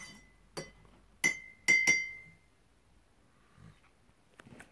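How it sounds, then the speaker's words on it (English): A spoon stirring honey into tea in a glass, five bright ringing clinks spaced irregularly against the glass, close and clear, followed by faint handling noises. "And since it's already liquefied, I don't have to stir it too long."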